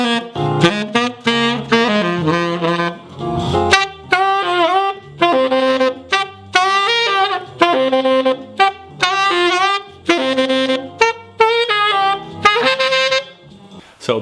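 A saxophone plays a simple solo starter, a busy stream of short, bright phrases with quick note changes and brief breaths between them, close and loud, with no voice present.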